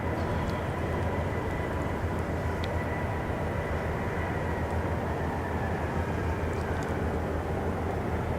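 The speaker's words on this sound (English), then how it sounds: "Austrian Embraer is off for a bit of a mooch around the apron and the taxiways" An Austrian Airlines Embraer jet taxis across the apron at Zurich airport, a steady, faint engine rumble and hiss holding level throughout, distant and alone.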